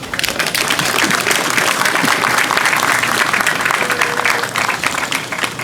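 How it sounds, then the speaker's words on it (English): Loud, sustained applause from a ceremonial audience honouring military academy cadets, a dense unbroken roll of many hands clapping that eases slightly toward the end. "they deserve an applause"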